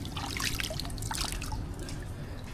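Cold, clear water trickles and drips continuously inside a cave, a close, bright babbling flow with no voices.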